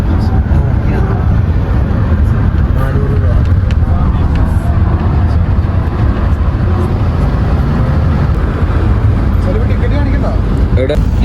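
The A1 city bus runs from the airport into Belgrade, Serbia; a steady, loud engine and road rumble fills the ride without a break.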